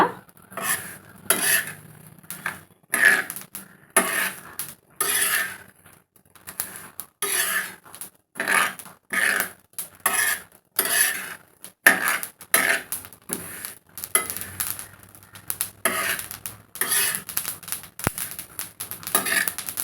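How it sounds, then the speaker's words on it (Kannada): Niger seeds roasting in a pan for chutney powder give off continuous dry crackling and popping, with rhythmic scraping as they are stirred, fairly close and steady throughout. "ನೋಡಿ ಸೌಂಡ್ ಕೇಳಿಸ್ತಾ ಇದೆಯಾ ನಿಮಗೆ ಚಟಪಟ ಅಂತ ಹೇಗೆ ಗುರಳ್ಳು ಹುರಿದಾಗೆಲ್ಲ ಸೌಂಡು ಬರ್ತಾ ಇರುತ್ತೆ"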